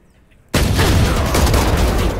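A shotgun fires in a video game: after half a second of near silence comes a sudden loud blast. A dense roaring burst of gunfire follows and carries on to the end.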